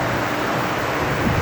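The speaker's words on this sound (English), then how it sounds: "These are some evaporative coolers that we keep to keep the heat down." Evaporative coolers running with water flowing over a mesh at an MG repair shop, a steady broadband whoosh of fan air and trickling water, constant and fairly loud with no voices.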